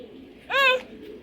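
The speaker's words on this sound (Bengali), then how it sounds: "এটা অনেক হাই কোয়ালিটি ব্লাডের কবুতর ভাই।" A single short, bright coo from a racer pigeon of a high-quality bloodline, part of a breeding pair, heard close up and alone against a quiet background.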